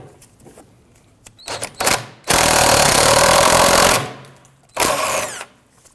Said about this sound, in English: Using a 17mm socket, you can try and snug that down.